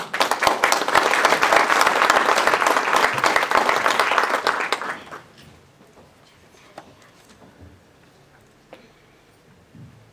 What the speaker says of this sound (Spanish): Con ustedes, recibimos con un fuerte aplauso a Laura Andrea Bello Porras